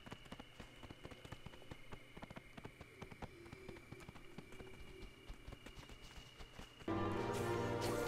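Panther mount running toward Suramar City in World of Warcraft, a quick steady patter of padded footfalls with faint ambient background, ending in a sudden louder burst of game sound.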